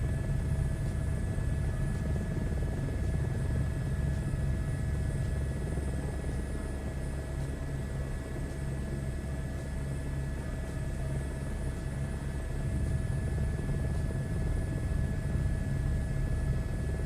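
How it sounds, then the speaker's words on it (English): A helicopter in Microsoft Flight Simulator gives a continuous, even engine drone with a steady tonal hum and low rumble, loud and unbroken throughout. "Some weird stuff happening with this helicopter."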